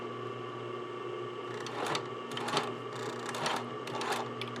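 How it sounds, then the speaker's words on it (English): A sewing machine stitches a sleeve band at an angle with a soft, close, steady mechanical hum and a few short bursts of faster stitching. No talking. "I'm going to put my needle in, and just at about a 45-degree angle, I'm going to go sew."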